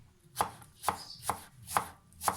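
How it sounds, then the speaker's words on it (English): A knife slicing a shallot into thin rings on a cutting board, five evenly spaced crisp chops about half a second apart, close and clear with no speech. "you're going to slice your shallot, nice thin"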